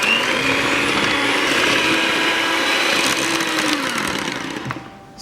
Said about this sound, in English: So using the hand mixer, I'm going to give it a really good mix.